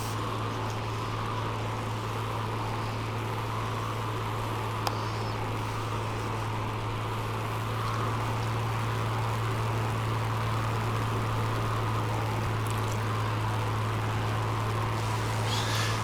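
Spitfire aircraft engine on a landing approach at a former RAF airfield, a steady, continuous propeller drone with an unbroken low hum holding level throughout, no voices present.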